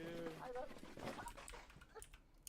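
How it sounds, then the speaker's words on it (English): A dog whimpers and yelps in distress, sounding hurt, in short high whining cries under voices talking nearby. "Sounds like a dog's getting hurt."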